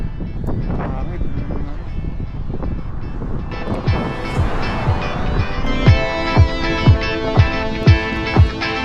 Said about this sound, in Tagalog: ganda ng panahon. Pero mahangin.